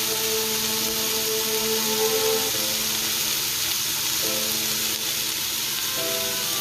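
Peppers frying in a pan for an Italian savoury cream sauce, giving a steady loud sizzle and hiss that runs unbroken throughout, with faint tonal hums underneath and no talking.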